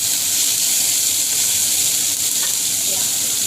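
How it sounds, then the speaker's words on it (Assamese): Onion, tomato and potato fry in a pan with a loud, continuous sizzle that holds steady throughout, without pauses. "মই এতিয়া অকণমান পিঁয়াজ দি বিলাহী আৰু আলু দি কাইলৈ এতিয়া অকণমান এনেকৈ মই ভাজি লওঁ"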